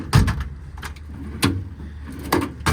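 Metal twist-lock drawers in an American Eagle body on a 2022 Ram 5500 crew-cab diesel service truck slide open and shut, giving several short, close clunks and rumbles spaced through the clip.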